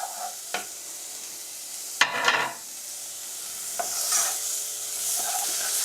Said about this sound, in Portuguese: E vou colocar a cebola, tá? E vou mexendo aqui até ela dar uma murchadinha.